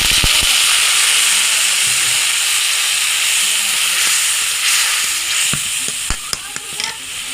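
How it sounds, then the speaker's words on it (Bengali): Water poured into a hot karahi of browned onions frying in oil gives a loud steady steaming hiss that slowly settles, followed by a few sharp spoon clicks and stirring taps toward the end. "এখন সামান্য একটু পানি দিয়ে দিলাম।"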